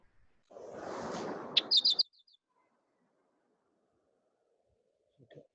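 Leaf warbler in India giving its song and call: a soft noisy burst followed by a quick run of high thin notes, then a faint short call after a pause.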